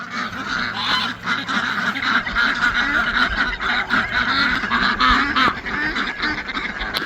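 Ducks and geese honk and quack continuously in a farmyard, a dense, loud flock chorus with overlapping calls throughout.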